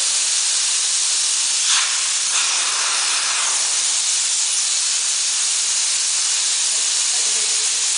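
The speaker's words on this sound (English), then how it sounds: "I think it's bringing out all the air that's left in the pipe." Air hisses steadily out of a pipe on a pneumatic-spring actuator, a broad continuous rush with a couple of brief bursts, fairly close and alone.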